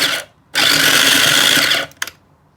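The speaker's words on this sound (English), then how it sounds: "I'm going to put them in a processor to whiz it up" A food processor whizzes crustless bread slices into panko crumbs, a loud, close motor whir running steadily for just over a second, with a short burst before it and a couple of clicks after.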